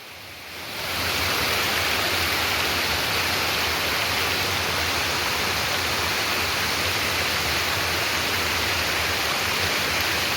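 The Paltau waterfall, a cascade about 35 to 40 metres high in a gorge, swelling in within the first second into a constant, loud, close roar of spraying water with no talking.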